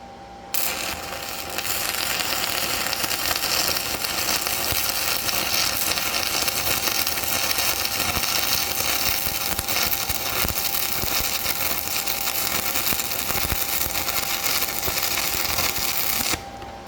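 Stick welding arc struck and run along a joint, a loud continuous crackling hiss that starts abruptly and holds steady for over fifteen seconds before cutting off.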